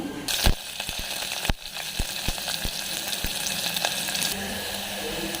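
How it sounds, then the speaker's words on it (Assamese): Chopped onions fry in hot oil with panch phoron, a continuous close sizzle broken by a string of sharp clicks and knocks from a spoon on the pan. "পিঁয়াজখিনি অলপ এনেকৈ ৰঙচুৱাকৈ ভাজি ল'লোঁ"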